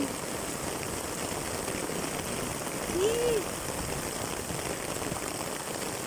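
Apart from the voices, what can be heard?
heavy rain while walking home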